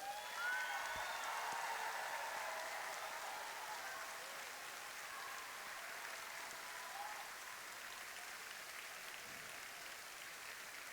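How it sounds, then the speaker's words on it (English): Sustained audience applause fills a large hall at the FTC Centerstage robotics World Championship, Ochoa Division, a steady, fairly distant wash of clapping that holds for about eleven seconds with a faint voice briefly under it. "Let's give them a big round of applause for their dedicated hard work."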